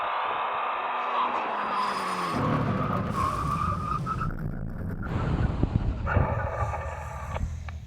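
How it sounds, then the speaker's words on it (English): A Koenigsegg Agera RST, a Tesla Model S Plaid and a Suzuki Hayabusa brake hard from 100 mph. Loud wind rush and engine roar fall away as tyres drone and scrub, with a whining motor sweep, close and continuous. "When we reach the line, full emergency stop."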